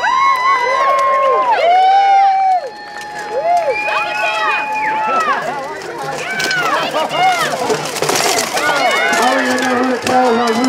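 A crowd cheers and shouts for a fighter, a loud, lively roar of many voices with high whoops and calls rising and falling throughout, one voice urging the cheering on.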